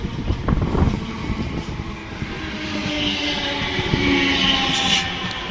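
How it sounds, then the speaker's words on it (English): A Class 455 electric train pulls into Earlsfield station on the South Western Main Line, bound for Guildford, with a loud, close rumble of wheels and a steady rising whine as it arrives. "this train coming in is a service to Guildford"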